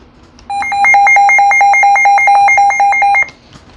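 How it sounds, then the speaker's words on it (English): A Midland WR-120 weather alert radio blares its alert test tone, a loud, rapid pulsing electronic beep repeating steadily for about three seconds at close range, then cutting off abruptly with no talking. "Yeah, that alert test, without me covering that, it's pretty loud."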